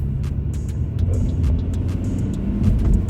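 BMW car engine holding about 3,000 RPM while cruising at 35 mph: a steady low drone with road rumble, constant and close throughout.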